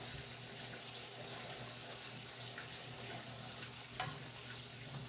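Steady sizzle of flour and food browning in a pan while a big family breakfast is cooked, continuous and close with a brief clink near the end.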